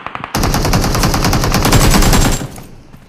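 A sustained automatic burst of rapid machine-gun fire in a Chinese shooter video game, loud and close, running for about two seconds before cutting off and fading out.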